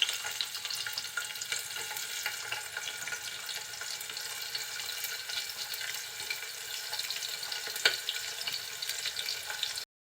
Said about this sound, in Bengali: তেলটা একটু গরম হলে দিয়ে দিচ্ছি কাঁচা পেঁয়াজ আর কাঁচা ঝাল।